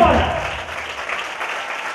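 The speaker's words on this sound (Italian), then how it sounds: "Un applauso!" An audience at a comedy show claps for an actor called up on stage, a burst of applause that starts loudly and then settles into steadier, softer clapping.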